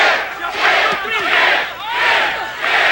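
A boxing arena crowd chants loudly in a steady two-beat rhythm, the rising and falling swells repeating roughly every second and filling the space.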